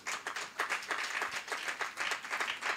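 A church congregation applauding in a sermon setting, many hands clapping together in a steady, rhythmic beat that fills the space without a break.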